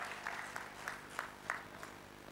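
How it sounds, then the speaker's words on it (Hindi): Sparse, faint applause from an audience at a Golden Jubilee ceremony: a handful of evenly spaced claps at a steady rhythm, heard from a distance in a quiet hall. "जोरदार तालियों के साथ सादर आमंत्रित हैं आदरणीय कृषि उत्पादन आयुक्त साहब, आदरणीय श्री मनोज कुमार सिंह साहब।"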